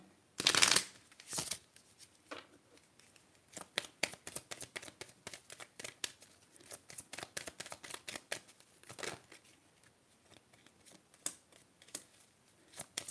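Tarot cards are shuffled and drawn from a deck close up, giving quiet rapid riffles and crisp card flicks in irregular bursts, with a louder shuffle near the start.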